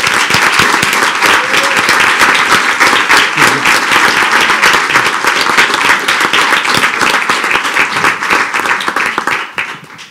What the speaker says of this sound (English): I would ask our audience and our board, with your applause, please help me welcome her to the room.